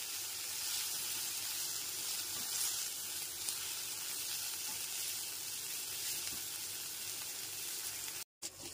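Ginger paste sizzles in a pan over a low-to-medium gas flame while being stirred, for a light Bengali fish curry with potato and pointed gourd; a steady, close, even hiss runs throughout, cutting out briefly near the end.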